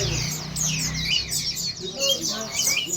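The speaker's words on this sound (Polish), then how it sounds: "O, tu się na mnie patrzy taki ptak." Parrots calling near a Dutch lake, a dense chorus of shrill chirps and screeches overlapping continuously, loud and close, with a faint voice underneath.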